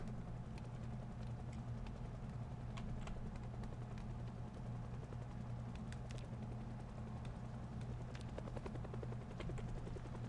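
Helicopter flying overhead in the survival video game Project Zomboid, a steady loud rotor drone lasting throughout with faint clicks and taps scattered over it.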